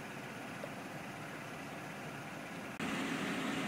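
The 4.3 liter flex fuel engine of a 2014 GMC Sierra 1500 4x4 double cab idles with a faint, steady, even hum that grows slightly fuller near the end.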